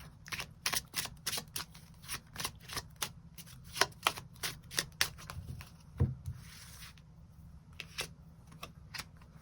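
Tarot cards are shuffled in a long run of quick papery riffles and taps, close and fairly quiet, with no talking.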